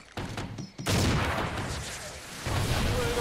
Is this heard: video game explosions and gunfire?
yes